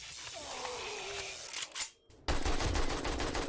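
Rapid AK rifle gunfire in the 7 Days to Die video game, a dense burst of shots that breaks off briefly and then resumes as loud continuous automatic fire.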